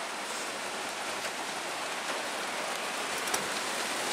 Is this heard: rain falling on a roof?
yes